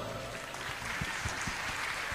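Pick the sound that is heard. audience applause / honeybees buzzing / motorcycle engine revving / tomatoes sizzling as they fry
audience applause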